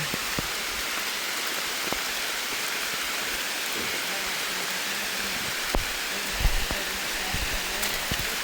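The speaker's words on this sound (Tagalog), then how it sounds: "Lakas ng ulan." Heavy rain pours down on Mt. Mantalingahan during a summit push, a dense, constant roar with a few faint knocks and thumps underneath.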